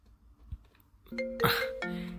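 Mobile phone ringtone chiming in short bright electronic notes, preceded by a few faint taps and rustles, fairly close and clear with no talk over it.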